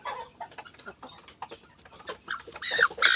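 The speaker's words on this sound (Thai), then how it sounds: "วันนี้พามาชมลูกไก่สี่เดือนนะครับ" Four-month-old Kip Thong chicks cluck and peep close by in a series of short, irregular calls that grow louder and busier toward the end.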